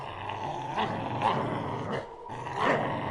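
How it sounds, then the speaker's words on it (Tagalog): Three dogs growling low and menacingly, a continuous rumbling snarl with a few rising surges, close and moderately loud, with no one speaking. "Patuloy pa rin ang pag-angil ng tatlong aso na nasa harapan"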